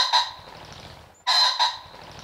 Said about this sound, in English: Their calls are croaky, similar to that of a domestic rooster.